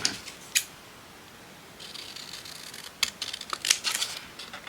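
Scissors snip a paper tag down to fit a folio pocket in a few short, crisp cuts. The cuts are close and separated by quiet pauses, with a run of quicker snips near the end.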